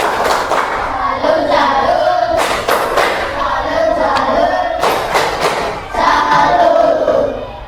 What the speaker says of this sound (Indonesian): Berikan tepuk salut dong buat Mas Yaki.